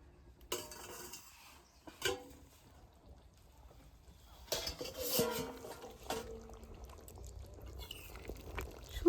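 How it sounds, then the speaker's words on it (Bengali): Metal lid lifted off a pot of simmering goat meat curry, with a few sharp clanks and scrapes separated by quiet stretches, close by, ending in a louder clatter; no talking. "এবার ঢাকনাটা খুলে দেখি কেমন হয়েছে"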